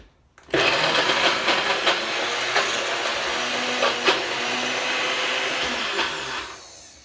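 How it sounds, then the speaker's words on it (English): A blender whirs loudly and steadily for several seconds blending raspberries with coconut water, its motor note shifting slightly as the contents churn, then it winds down. "now I'm blending the raspberries"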